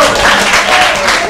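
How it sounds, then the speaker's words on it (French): A studio audience on a French-language morning television show gives brief, loud applause lasting about a second, with some voice mixed in. "On applaudit."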